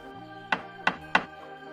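A bear knocks on a wooden gate with three distinct, evenly spaced thuds, close and fairly loud over a quiet background.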